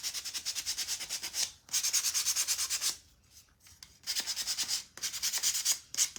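Sandpaper is rubbed by hand in quick back-and-forth strokes, making a loud, rhythmic hiss. The strokes come in several bursts separated by short pauses, close up and with no voices.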